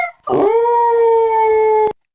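A dog howls in one sustained, steady-pitched note with rich harmonics, clear and close, lasting about a second and a half and ending abruptly, with no talking.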